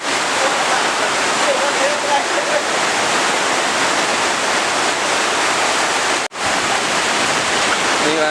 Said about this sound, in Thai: นี่ก็คือน้ำท่วมเนาะ